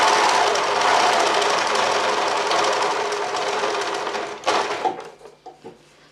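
An overlocker sewing machine stitching with black cotton runs in a dense, fast, steady mechanical whirr and chatter for several seconds, then slows and stops, leaving a few scattered clicks and knocks.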